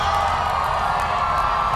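A large crowd of young people at GC University in Lahore cheers and whoops in a loud, continuous roar as former Prime Minister Imran Khan is welcomed, with clapping mixed into the noise.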